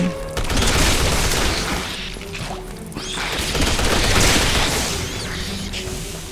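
Gunfire and crashing impacts in the Resident Evil 6 chainsaw fight with Ada Wong, loud and dense, rolling in bursts across the whole stretch.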